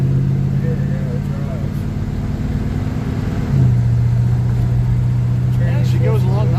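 A 1968 Chevrolet Impala with a 700 transmission cruises steadily at low RPM, its deep engine drone constant and close, shifting pitch once partway through as a voice talks over it.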